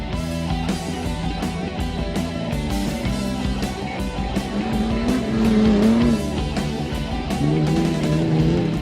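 A race car roars past close by at a street racing event, its engine loud and sustained with rising pitch and a crowd-filled background, no talking over it.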